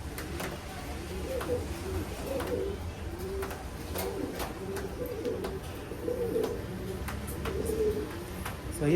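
Racing pigeons in a loft coo in low, soft repeated phrases throughout, with a steady background hum and occasional faint clicks and rustles; a voice is heard briefly.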